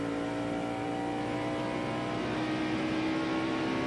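A stock race car engine howls at high revs down the Rockingham back straightaway during the 1994 ACDelco 500, a loud, steady, unbroken drone on used tires with no voices.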